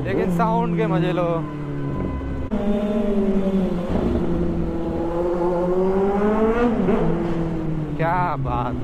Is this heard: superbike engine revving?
yes